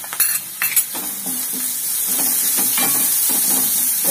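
Turmeric, red chilli and coriander powder sautéed in a pan for chicken masala: a close sizzle with a few sharp spoon clinks against the pan at the start, then steady frying hiss.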